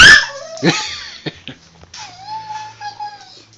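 A pet dachshund whimpers and yips close by, with a sharp opening cry, a few short yips, and a long, thin whine trailing off at the end.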